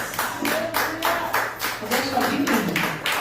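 A church congregation claps together in a quick, even rhythm of sharp bursts, with voices carrying underneath.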